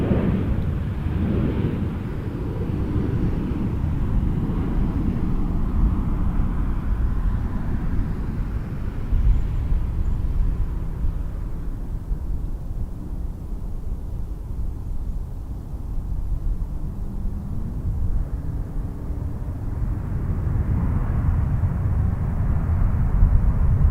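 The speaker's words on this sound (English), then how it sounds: "EVA has been cleared to land. 6 left, 777-300ER from Taipei." An EVA Air Boeing 777-300ER heavy jet, arriving from Taipei, lands on runway 06 left at Toronto Pearson. A loud, steady, low roar fills the whole stretch and swells and eases slightly without letting up.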